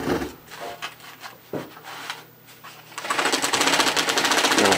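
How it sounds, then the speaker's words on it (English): An industrial carpet binding machine stitches binding tape onto carpet edges, starting with a few clicks and short stitch bursts, then settling into a loud, steady, fast mechanical run. "now we're ready to sew"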